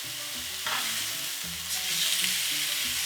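Thin-cut beef strips for fajitas sear in a hot pan, giving a steady close sizzle broken by stirring and scraping, with no voices.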